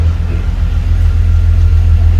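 A BMW E36 Compact engine held at a loud, steady low rumble during an attempted wheel spin, close and droning without clear rises or drops in pitch.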